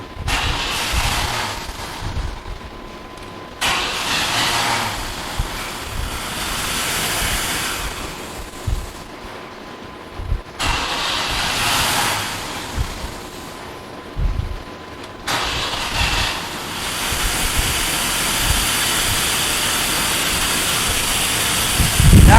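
A 1996 Chevy 1500 pickup engine cranking in repeated bursts, each attempt catching and running roughly with a hissing, uneven roar before dying away, low on fuel, close and loud.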